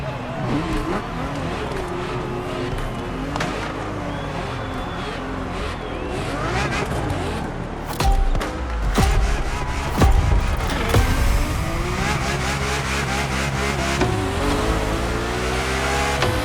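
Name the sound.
Ferrari F50 engine revving, from video game The Crew Motorfest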